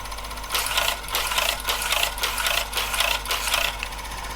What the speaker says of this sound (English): I'll feed some paper out so you can see what's going on.